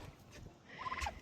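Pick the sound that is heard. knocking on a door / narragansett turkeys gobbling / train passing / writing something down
narragansett turkeys gobbling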